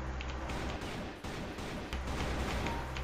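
Rapid bursts of gunfire from a CrossFire first-person shooter match, a dense, steady volley of rifle shots filling the whole stretch with no voices.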